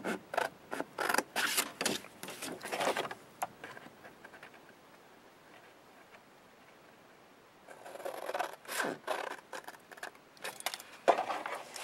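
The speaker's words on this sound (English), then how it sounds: "We're going to take a pair of scissors and we're going to cut out that triangle on" Scissors snip triangles out of a sheet of paper while making a decorative folded envelope: two bursts of quick, crisp, close cuts separated by a few quiet seconds, with no talking.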